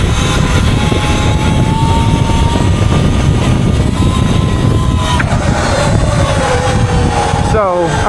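An ERide Pro SS 3.0 electric bike is ridden on its back wheel, giving a loud whining motor hum with rising and falling pitch and strong wind noise, ending in a quick upward sweep as the power rises.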